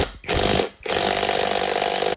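An impact wrench rattles off 12 mm roof rail bolts on a vehicle roof, two loud close bursts of rapid hammering separated by brief pauses, with no talking.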